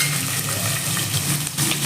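Finely chopped onions frying in hot oil with cardamom for pepper masala chicken, a loud dense continuous sizzle close up, no talk.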